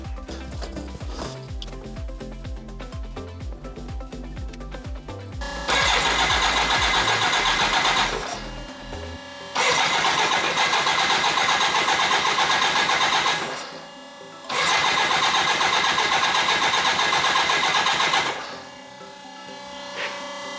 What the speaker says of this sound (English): So what you heard was the return pump from the turbo.